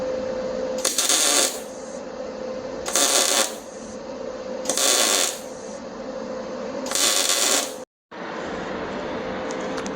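Tack welds join a bracket to a Ford F100 steering column, heard as four harsh crackling bursts of about a second each, spaced evenly over a steady electrical hum that cuts out briefly near the end.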